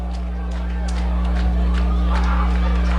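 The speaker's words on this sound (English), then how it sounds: "Now you hear the Kansas City Chiefs / Florida State Seminoles chant from the Doherty crowd." Chiefs/Seminoles-style chant from the home crowd at a Doherty vs Shrewsbury high school football game, a steady loud roar of many voices filling the stands throughout, with rhythmic swells over continuous crowd noise.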